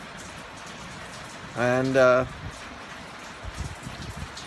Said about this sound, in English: It's raining. I don't know if you can hear that. Not a hard rain